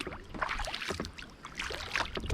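A canoe or kayak paddle dips into the water of Deer Creek, a conservation area. Close splashy strokes and drips come every half second or so under light wind.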